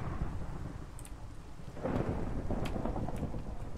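Steady rain with rolling thunder in a Minecraft-style survival game, a dense continuous downpour that swells louder midway as thunder rumbles, with faint clicks on top and no voices.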